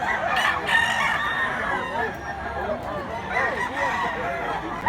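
A bullstag rooster crows several times at a rooster farm in Mantalungon, Cebu. The crows are moderately loud against faint background noise, with a brief murmur of voices.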